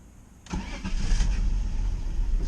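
A car engine cranks and catches, then settles into a loud, uneven idle with a rough, lumpy note from cylinders low on compression, close and steady with no talk.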